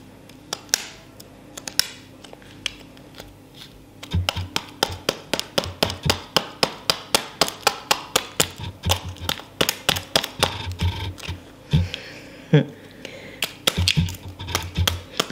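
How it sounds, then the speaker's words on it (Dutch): Sharp metallic knocks of a knife chipping frozen paper-ice out of a plastic cup, a sparse few taps at first, then a rapid, steady run of close, loud raps. "Ik vind het wel heel gevaarlijk om met dat mes te kloppen."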